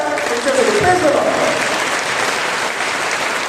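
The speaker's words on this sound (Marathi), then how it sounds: "म्हणून सर्वप्रथम अगदी जोरदार टाळ्या तुमच्याकडे." Loud, sustained applause from a church congregation fills the space throughout, a dense continuous clapping that holds steady with no talk over it.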